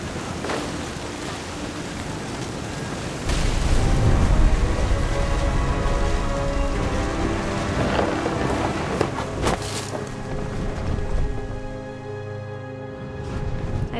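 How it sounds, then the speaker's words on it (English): Rain and thunder in What Remains of Edith Finch, a loud wash of storm noise with a sudden heavy swell, rumbling low roar and scattered crackling bursts, close and continuous. "The thunder sounded much too close and full of angry power."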